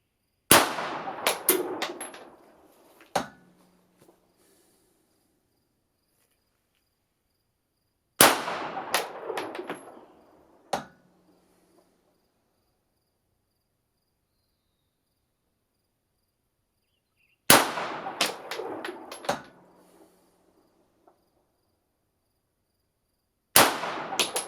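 Suppressed 9mm shots from a Glock 17 with an Osprey 45 suppressor firing subsonic 147-grain loads: sharp muffled cracks with ringing tails, fired in pairs and small clusters separated by long silent pauses, loud and close.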